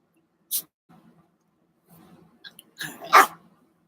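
A dog lets out a couple of short, quiet barks separated by silence, with soft snuffling sounds in between.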